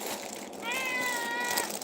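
A pet cat meows in a drawn-out, wavering cry that rises in the second half of the clip, close and fairly loud against steady background noise, with no talk over it.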